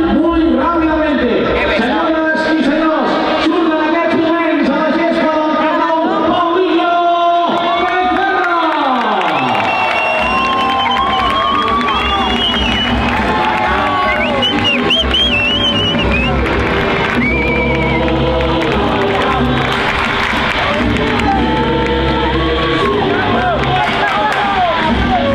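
A large stadium crowd at Camp Nou roars and cheers continuously, loud and echoing, with whistles and shouting voices mixed through the din.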